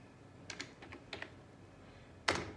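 Someone types on a computer keyboard while entering a command, with a few quick close key clicks in small bursts and a louder final keystroke, like a press of Enter.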